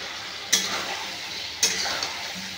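Fried pointed gourd and potatoes are tipped into hot spiced oil, two sharp scraping stirs over a steady close sizzle.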